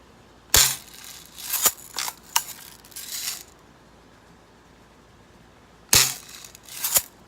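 A Red Ryder BB gun firing outdoors, a few sharp snapping shots spaced seconds apart with faint rattles and clicks between them and quiet gaps, no voices.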